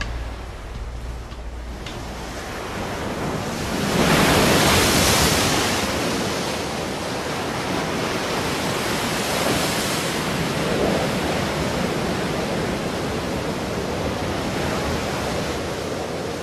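The Meltem wind blows over a rugged, storm-worn Greek island coast as a steady broadband roar, swelling into stronger gusts with surf-like washes and then holding at a constant rush with no voices.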